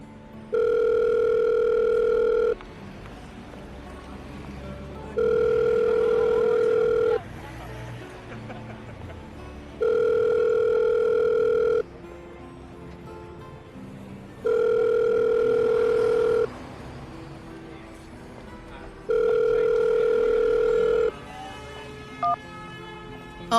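An outgoing phone call rings back in five loud, evenly spaced two-second bursts with steady pauses between them, heard close and clear with no one answering.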